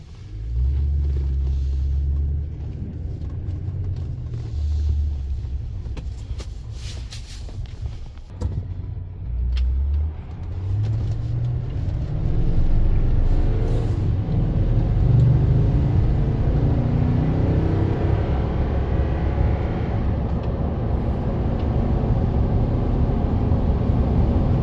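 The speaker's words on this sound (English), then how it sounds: "Alright, going for a test drive." Lifted 2021 Toyota Tundra 4x4 on a road test, with a steady low engine and road rumble inside the cab, rising and easing as it accelerates, alone without talk.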